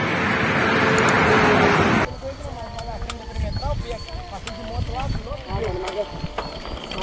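A truck roars past loudly and close on the Dutra highway for about two seconds, then lighter road traffic rumbles on while a man on a bike talks excitedly over it.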